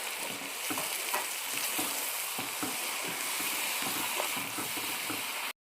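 Tomato paste sizzles as it fries with ginger garlic paste in a pan for a Pakistani beef haddi guddi salan. The hiss is steady and close, with soft scraping stir strokes, and it cuts off abruptly at the end.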